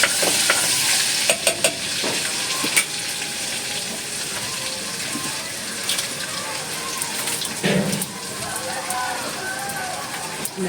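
Garlic and onion sauté in a hot pan with a steady, bright sizzle and occasional stirring scrapes, close and continuous, while a person talks over it.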